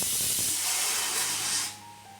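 Steam hisses steadily from pots of rice and potatoes boiling on a home kitchen stove. The loud, breathy rush dies down near the end, leaving a faint low hum behind it.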